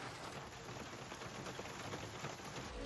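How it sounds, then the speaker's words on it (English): Heavy rain with a little sleet hammers down steadily and close in a mountain setting near Champery, a dense, continuous wash of drops with no voices. "It is absolutely hammering rain and a little bit of sleet and stuff."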